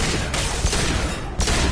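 Sci-fi weapon gunfire crackles in Mass Effect 2 as loud, dense bursts of rapid shots, with a short break before another volley, and no talk during the shooting.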